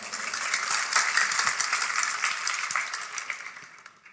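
A seminar congregation claps together in a sustained round of applause, a moderately loud wash of many hands that tapers off toward the end.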